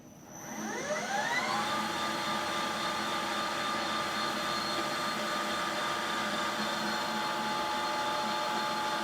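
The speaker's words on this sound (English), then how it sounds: "Start with a little bit of a facing operation. Carbide tooling likes a high speed. We're running 1700 RPM right now." Precision Matthews PM 1440 HVT-2 metal lathe taking a facing cut with carbide tooling at 1700 RPM, a whine that sweeps upward in pitch as it spins up, then settles into a steady, close, continuous hum.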